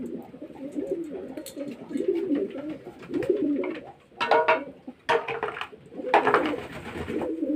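Pet pigeons coo continuously in overlapping rolling calls at close range, broken by a few brief clattering knocks.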